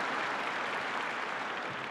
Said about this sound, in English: why don't we give Robert another round of applause for doing an outstanding job leading this vital American agency